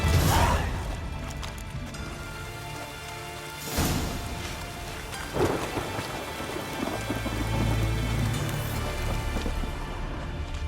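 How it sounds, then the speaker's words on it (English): Steady rain patters in a Witcher 3 scene in Novigrad, broken by several loud thunder cracks and rumbles that rise and fade. "Rain, I like rain."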